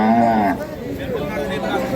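A female calf lows once at a cattle market where dairy cows are sold, a close drawn-out moo followed by a murmur of voices and crowd noise.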